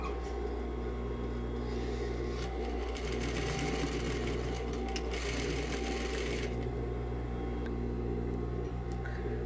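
A sewing machine stitches the corner of a shirt collar, running as a steady continuous motor whir with a fast rhythmic needle clatter that intensifies midway, close and alone without talk.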